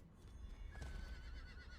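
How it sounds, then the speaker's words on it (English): A horse in the video game Diablo 4 whinnies once, fairly close and clear, with a faint clip-clop of hooves beneath it. "I got a horse, of course."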